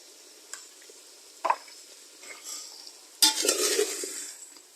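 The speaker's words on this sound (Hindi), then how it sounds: "अच्छी तरह भूनेंगे हम" Chicken frying in a pot with salt and red chili for chicken pulao: a few scattered spoon scrapes and taps, then a sudden burst of sizzling as it is stirred near the end.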